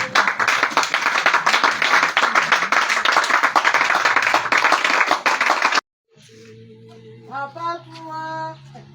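Dense, loud clapping from a church congregation acclaiming the Lord at a revival worship service, steady rhythmic applause filling the first six seconds before cutting off abruptly to quieter music and singing.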